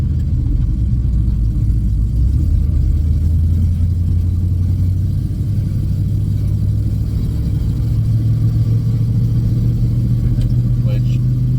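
Steady mid-pitched car engine drone running continuously at a fairly loud level, slowly rising in pitch as it works through a slow gear shift, with no clear break.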